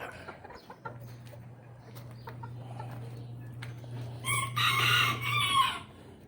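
Chickens on a farm after a typhoon, clucking and squawking at moderate distance with a louder burst of calls toward the end over a steady background hum.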